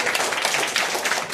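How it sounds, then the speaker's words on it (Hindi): Children at a school event clapping loudly together, a dense continuous patter of many hands filling the space throughout a brief burst. "एक बार जोरदार ताली बजा दीजिए"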